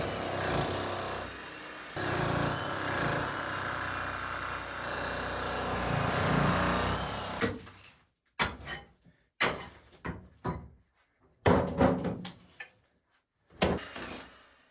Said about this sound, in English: I needed to start using the hammer at more of an angle for other parts to be able to break the rocks